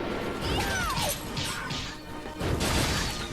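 A candlestick smashes apart in the side-scrolling video game Bloodstained: Ritual of the Night, a crisp crash with a swishing sweep over layered game music and effects, repeated in a few bursts.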